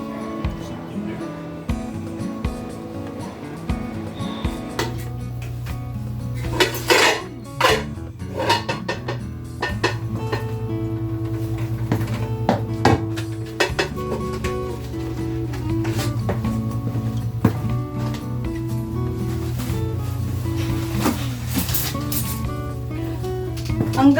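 Cooking pots, pans and kettles are handled in a home kitchen, with scattered clanks and knocks of metal cookware over a steady background hum, some sharp and close.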